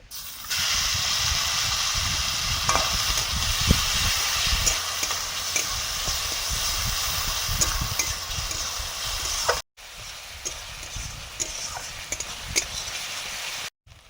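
Chopped onion fries in butter for paneer butter masala, a loud continuous sizzle and hiss with occasional stirring scrapes, cut by two brief gaps, no speech.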